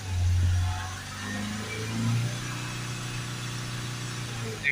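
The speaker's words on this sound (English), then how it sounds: "If we accelerate it up" A Ford Transit van with power loss and a full DPF runs with a steady low engine drone that swells briefly as it is accelerated, then settles back to an even hum, close and moderately loud.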